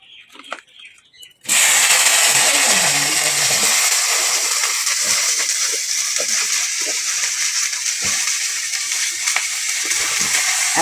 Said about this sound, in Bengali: কিছুটা কেটে ধুয়ে রাখা ঢেঁড়স দিয়ে দেব